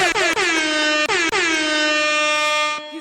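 A loud air horn blares in several brassy blasts, with short stuttering breaks at the start before one long sustained honk that cuts off near the end.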